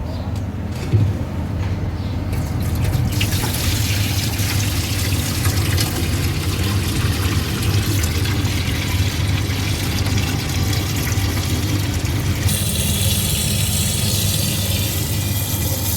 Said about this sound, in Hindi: अब हम इसका पानी जो है उसको निकालेंगे और एक दो पानी इसको अच्छी तरह धो लेंगे